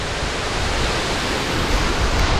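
Dense, continuous spray of a waterfall at Dawki falling straight onto a GoPro camera, a loud, even broadband hiss and patter with no voices.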